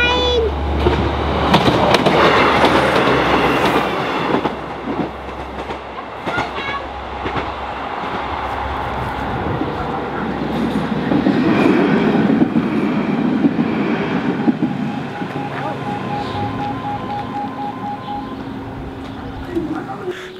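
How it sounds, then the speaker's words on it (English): A train rumbles past very close at a tram line, loud and sustained with rattling wheels and clacking, while a voice speaks briefly over the din. "Train!"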